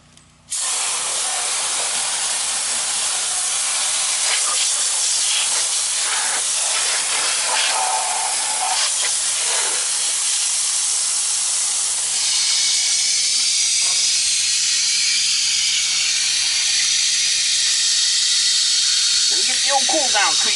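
Garden hose spraying water onto a central air conditioner unit that has shut off on thermal overload, a loud steady hiss close by that shifts in tone as the spray moves across the coil fins, with some speech underneath.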